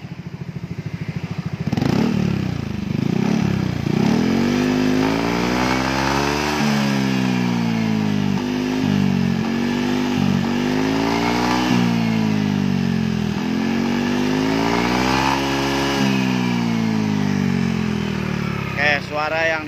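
A Yamaha NMAX scooter fitted with an aluminium racing exhaust is revved repeatedly while propped on its stand, rising and falling in close, loud throttle blips with a rough mechanical rasp.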